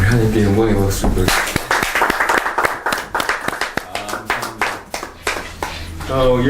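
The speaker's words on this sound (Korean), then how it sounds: "우리 하나님께 영광의 박수 보여주세요" A church congregation in São Paulo, Brazil claps in praise during a Sunday service, a run of crisp, rhythmic handclaps close by. Speech comes just before and right after the clapping.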